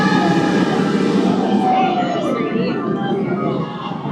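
A loud, whining roar sweeps close by as the Mako roller coaster train at SeaWorld Orlando rushes past, then eases off slightly as it moves away.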